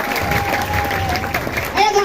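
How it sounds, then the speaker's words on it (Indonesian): Audience applause at a lively Balinese comedy dance show in Bangli, a steady broadband clatter of clapping lasting throughout, with voices and a tonal note over it near the end. "tepuk tangan dong buat Sanjaya."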